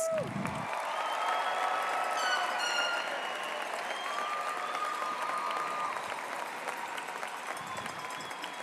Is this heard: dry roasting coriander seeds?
no